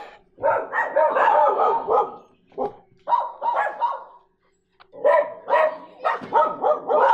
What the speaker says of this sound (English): just had to wait for the dogs to quiet down there